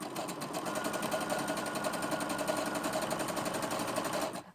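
A sewing machine runs steadily, stitching elastic into a gathered waist, with an even, continuous mechanical whir close by for several seconds before stopping abruptly.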